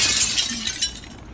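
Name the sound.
glass window shattering in video game Granny 3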